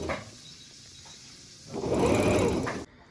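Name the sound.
sewing machine stitching face mask fabric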